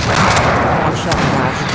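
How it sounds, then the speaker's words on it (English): Heavy rumbling barrage of explosions and gunfire from an incoming precision airstrike in the video game Modern Warfare, dense and loud throughout, with a game voice speaking over it. "Enemy precision airstrike inbound."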